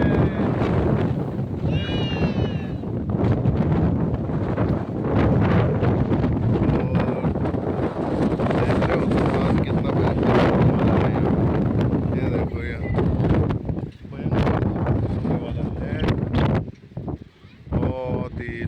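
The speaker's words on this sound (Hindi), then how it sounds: "बहुत ही सुंदर यहाँ पे हवा चलती हुई।" Strong wind buffets the microphone in the Uttarakhand hills, a loud continuous rumbling roar with gusts, while people talk and goats bleat in the background.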